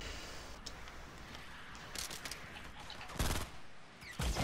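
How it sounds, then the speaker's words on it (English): Bursts of gunfire from the video game Fortnite, with scattered shots and a couple of louder rapid volleys near the end over a quiet background. "Just start shooting them."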